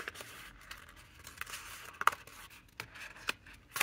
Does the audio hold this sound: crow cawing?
no